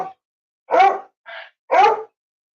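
A dog gives several short, sharp barks and yips with a whining edge, separated by pauses, fairly close and with no talking.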